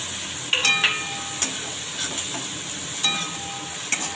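Green chilli paste sizzles softly as it fries in a pan while a spoon scrapes and stirs now and then, with a few light clinks.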